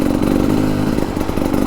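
A Beta Xtrainer 300 dirt bike engine labours steadily as it climbs uphill, a close, continuous engine drone with no talk over it.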